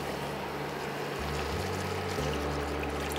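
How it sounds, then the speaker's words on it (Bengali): Water poured into a Bengali sour fish curry of mourala fish, a steady close splashing and trickling that runs unbroken for a few seconds over a low hum, with no talk. "আবার একটু পরিমাণ মতন জল দিতে হবে"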